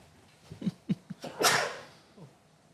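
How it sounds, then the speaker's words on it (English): A single close sneeze bursts out after a few short breathy intakes, loud and sharp, then fades with a faint exhale. "I'm just going to sneeze."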